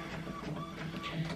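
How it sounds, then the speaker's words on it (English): A home printer jams while trying to feed thick card stock, giving a steady mechanical whirring and grinding that runs throughout with no pauses, close by and moderately loud, with no talking. "I like the card, but it will not go through my printer"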